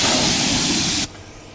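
Compressed air blasts dust off a Mercedes-Benz Unimog's bare steel before priming, a loud steady hiss held for about a second and then cut off, leaving quieter background noise.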